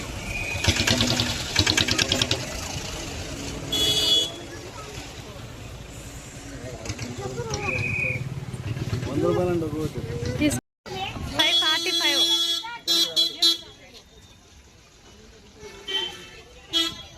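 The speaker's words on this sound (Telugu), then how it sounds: "ఇప్పుడు ఫుల్ చూడండి ట్రాఫిక్, ఎంత ట్రాఫిక్ అంటే ఇంకా ఉంది చాలా" Busy road traffic on the way to Gir park in Gujarat: engines rumble and idle nearby while car horns toot repeatedly, all under steady conversation.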